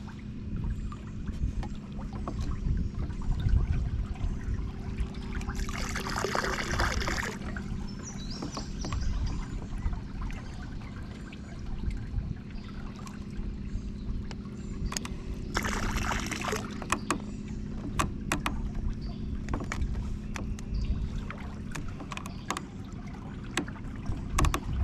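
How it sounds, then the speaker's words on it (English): A trolling motor churns the water of a small pond, a steady low rumbling wash with two brief louder bursts of splashing, no one speaking. "If you use the trolling motor to churn the water up, it starts broadcasting the dye a little better."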